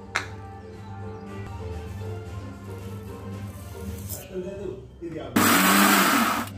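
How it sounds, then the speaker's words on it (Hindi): A voice talks over a low hum for several seconds, then a mixer grinder grinding mustard seeds and ginger into a paste starts abruptly and roars loud and close until the end. "अब इसको अच्छा से ग्राइंडिंग कर लेंगे, ग्राइंडिंग करके इसका पेस्ट बना लेंगे।"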